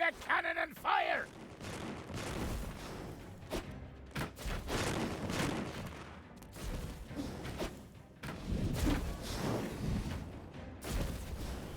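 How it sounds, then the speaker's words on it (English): Cannon fire in the video game Dungeons 3 arrives as a series of heavy booms and thuds mixed with battle noise and game effects, moderately loud throughout. "Ready the cannon and fire!"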